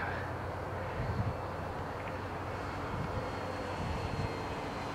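An FMS B-25 bomber radio-controlled model plane flies at half throttle, a steady, moderately distant motor drone that holds an even level without talking.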